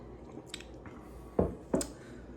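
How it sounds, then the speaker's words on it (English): A Café Du Monde drink being sipped: two short, wet slurping pulls up close, quiet against a soft room background. "let's get one last sip for the review"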